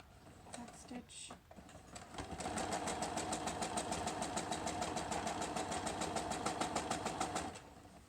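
A sewing machine runs in a steady rapid burst while stitching a fabric face mask, its fast needle rhythm continuing for several seconds before stopping, preceded by brief handling noises.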